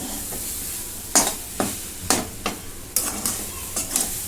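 A utensil stirs and scrapes thick gram flour pithla, made from ground chana dal, in a cooking pan. Roughly eight distinct strokes come in an uneven rhythm over a soft, steady background, close and moderately loud, with no talking.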